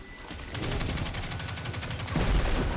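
Rapid gunfire from Destiny 2 shooting at debris, a steady burst of evenly spaced shots that runs nearly three seconds, with heavier low booms near the end, and no talking over it.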